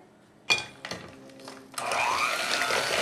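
An electric mixer starts and stops in short bursts, then runs steadily, loud and close, beating butter, sugar and chocolate in a bowl for German chocolate cake.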